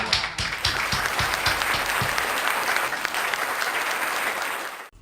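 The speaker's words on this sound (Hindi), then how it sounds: "कविता समाप्त हो गई, तालियां बजा दीजिए।" Loud applause from a live audience at a Hindi poetry recital after a humorous poem ends, with dense clapping that builds quickly, holds steady for several seconds, then cuts off abruptly at the end.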